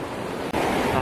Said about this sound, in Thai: ก็จะมาถึงความ อลังการของน้ำตกหลีผีนะครับ